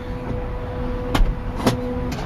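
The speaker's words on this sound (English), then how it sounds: "You can see the back door closing." The power rear liftgate of a Chrysler Town and Country minivan closes with a motor hum under a steady electronic warning tone, punctuated by two or three sharp clunks.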